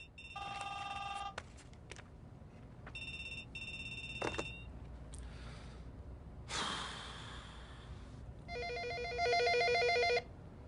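An office telephone rings in repeated electronic trilling bursts, separated by quiet gaps with breathy sounds and rustling in between, with the final ring the loudest.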